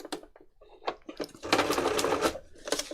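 A sewing machine runs a straight stitch for free motion embroidery on a junk journal cover, heard as close, quick bursts of mechanical whirring that start and stop, with a longer steady run in the middle.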